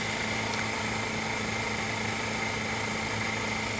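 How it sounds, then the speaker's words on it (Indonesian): Electric drill powered by a homemade fuel-free generator, giving a loud, continuous motor whine and hum with steady vibration, running alone without pause. "Bor ini dapat menyala hanya dengan genset tanpa BBM"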